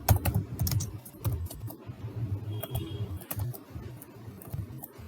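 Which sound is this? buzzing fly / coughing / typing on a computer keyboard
typing on a computer keyboard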